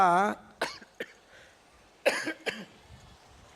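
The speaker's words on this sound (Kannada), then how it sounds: "ಪ್ರವಚನಕ್ಕೆ ವ್ಯತ್ಯಯ ಆಯಿತು ಕೆಮ್ಮು ಬಂತು" A single sharp cough, then a few more scattered coughs and throat-clearing bursts, close to the microphone with quiet pauses in between, interrupting a spoken religious discourse.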